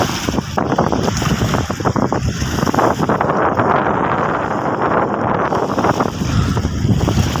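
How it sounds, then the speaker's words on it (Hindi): Strong wind buffets the microphone beside a cold lake while waves roll in continuously, a loud, unbroken roar of gusts and surf with no voices. "मुसलसल ऐसे लहरें आती हैं और यहाँ बड़ी तेज़ हवा है और काफ़ी ठंड है यहाँ पर।"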